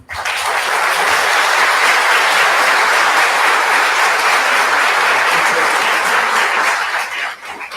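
Sustained applause from a large audience, steady and dense for several seconds before tapering off at the end.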